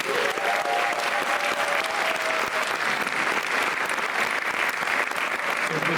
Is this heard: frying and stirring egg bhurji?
no